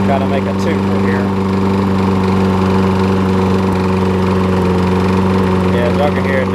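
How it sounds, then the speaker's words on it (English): A Murray push mower fitted with a pressure washer engine runs at a steady idle, close and loud, with a constant droning hum and a slightly uneven running note throughout. "I'll finish off with the Murray, with the pressure washer engine"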